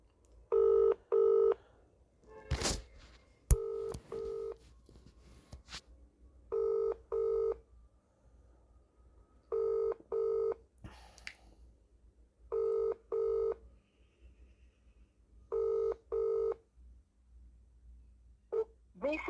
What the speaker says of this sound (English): ringing up Christopher Browell